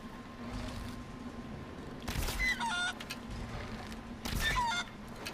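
Birds call in the video game Far Cry Primal, two short bursts of honking, fowl-like cries about two seconds apart over a quiet in-game ambient hum.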